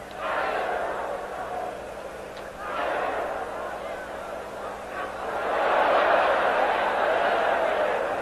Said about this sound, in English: The crowd signals every punch from Galaxy.